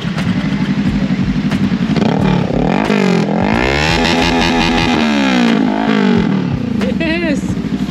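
Motorcycle engine with an aftermarket muffler revved hard up close, with rising and falling bursts of throttle over a loud, raspy exhaust, while people talk over it.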